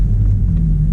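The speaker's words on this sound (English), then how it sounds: "I like to blip the throttle" Car engine with a manual transmission rumbling steadily at close range, with a low throbbing hum that rises slightly as the throttle is blipped during a downshift while braking.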